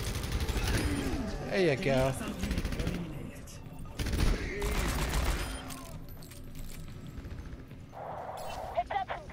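Rapid gunfire from Overwatch story-mode co-op play, dense bursts of automatic shots and impacts over game effects, with someone talking over the action.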